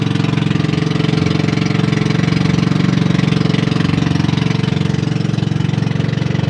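A boat engine with a faulty idle runs continuously at close range, a steady, droning low throbbing hum with a slight knock, holding an even idle throughout with no voices.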